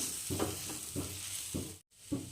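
Leafy fasting vegetables being stirred with sugar in a hot pan, making four regular scraping strokes over a steady sizzle, with a brief silent gap near the end before one more stroke.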